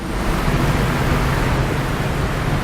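Rough sea waves around a fishing boat out in open water, a loud, continuous broadband wash of surf and spray with no distinct breaks or voices.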